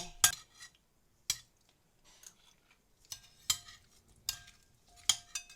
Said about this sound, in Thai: เกือบ ลืมซอสพริกคลุกไป